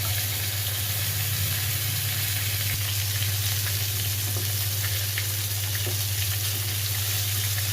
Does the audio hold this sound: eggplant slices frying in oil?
yes